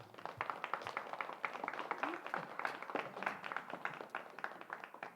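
A church congregation during a sermon bursts into applause, individual claps clearly separated in a brisk, uneven rhythm, fairly faint and close-sounding, with no talk over it.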